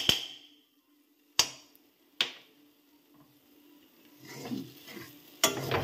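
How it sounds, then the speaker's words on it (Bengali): Spice paste fries in a pan with a faint sizzle, broken by a few sharp spatula clacks against the pan and a louder bubbling stretch toward the end. "এটাকে আমি ভালো মতো ভেজে নেব মশলাটা"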